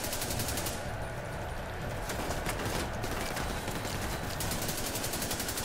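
Sustained turret machine-gun fire in The Division 2, a dense, loud rattle of rapid shots running without pause, mixed with a busy in-game firefight.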